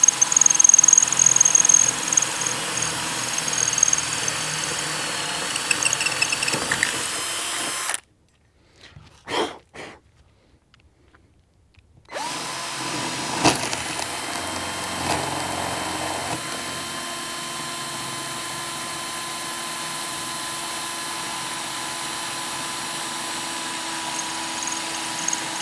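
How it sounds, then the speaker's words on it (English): A power drill bores mounting holes for a Minn Kota Terrova i-Pilot trolling motor, a steady whirring drone running close and continuous, cutting out briefly in the middle before resuming, with no talk. "just let the drill do the work"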